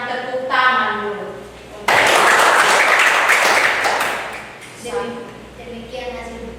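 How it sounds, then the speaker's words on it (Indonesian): A classroom group applauds after a presentation, a dense burst of clapping that swells in the middle of the clip, with people talking before and after it. "Kita berikan tepuk tangan dulu."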